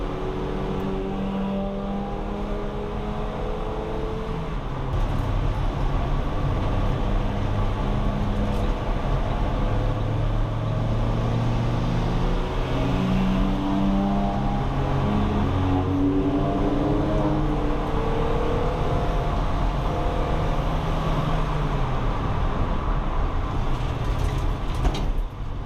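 A Renault Twingo track car lapping a circuit, its engine droning loud and continuous from inside the car with rising and falling pitch through gear changes, steady road and wind noise underneath, no talk.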